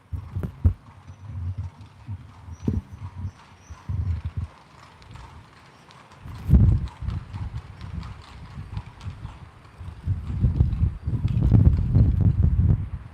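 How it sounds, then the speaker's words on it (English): Horse hooves clip-clop from a horse-drawn carriage in Austria, an uneven series of knocking steps on pavement, faint at first and growing louder and denser toward the end. "they have a few of those horse-drawn carriages"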